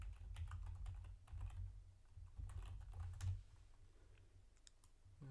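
Keys clicking on a computer keyboard during command-line work, quiet and close, with uneven bursts of taps, short pauses and a few louder strikes.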